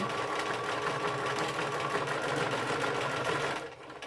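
A sewing machine runs in a steady, close whir while completing a single stitch cycle, then winds down and stops just before the end.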